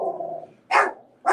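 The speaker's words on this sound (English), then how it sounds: "That's my dog." A dog barks indoors in two sharp, loud bursts spaced about half a second apart, following a low rumbling growl-like sound at the start.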